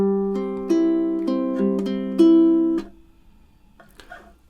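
A ukulele picks a bright song phrase of measure seven into measure eight, several ringing plucked notes in even rhythm, then stops for a soft percussive string tap alone in near silence.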